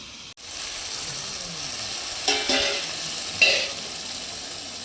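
Tangra fish curry sizzles and is stirred in a pan after a splash of water, a steady close hiss with a few louder scraping bursts of the spatula.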